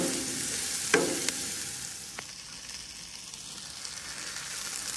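Chopped fermented fish (pla ra) sizzles as it is stir-fried with garlic in a home kitchen, a steady hiss with a few sharp clinks from the utensil early on.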